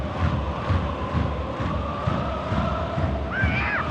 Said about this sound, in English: Vibrant crowd inside this Shanghai stadium.